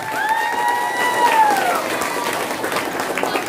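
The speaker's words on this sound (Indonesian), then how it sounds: "Tepuk tangan dulu untuk orang tua kita." An audience at a Maulid religious gathering claps continuously, a loud crowd of applause with a whistling tone sliding over it in the first half.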